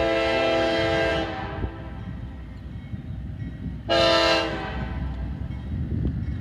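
Oil train locomotive with an L&N emblem unit passing westbound on the former Big 4 NYC Conrail line in Greenwich, Ohio, sounding two loud horn blasts over a steady rumble of rolling wagons.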